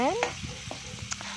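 Food frying in a pan is stirred with a few scraping and clinking strokes over a steady sizzle, close and moderately loud, with a brief rising tone at the start.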